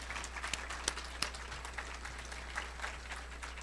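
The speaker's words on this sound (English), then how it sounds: "Let's give her a round of applause" A live audience at a Big Breakfast 2022 event applauds a Big Sisters board member as she comes to the stage, a steady, dense wash of many hands clapping at moderate loudness with a few sharper claps standing out.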